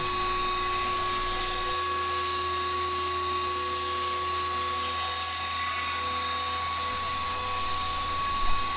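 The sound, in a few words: CNC mill machining a wood plaque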